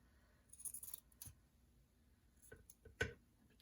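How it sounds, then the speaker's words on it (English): Scissors snip a few times while a decorated journal cover is being made. The quiet, close cuts come in short separate bursts, with a sharper snip near the end and no one talking. "So find some scissors."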